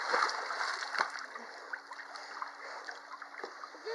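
People ease into cool pool water at a campsite, making soft sloshing and light splashes against a steady watery background, fairly close but not loud.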